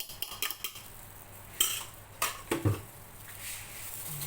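A spoon works milk and egg into scone dough in a bowl, making faint, soft clinks and wet stirring scrapes at an uneven pace, quiet and close.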